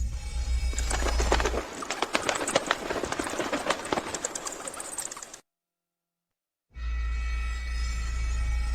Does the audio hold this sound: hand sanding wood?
no